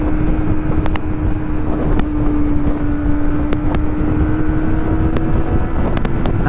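Kawasaki ZX25R motorcycle engine while riding on a country road, a steady loud buzzing drone at constant revs mixed with heavy wind rush on the microphone, with no talk.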